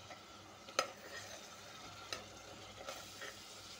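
Washed mutton fries in oil with onion paste for a mutton bhindi shorwa, a faint low sizzle with a few sharp clicks of a spoon against the pan.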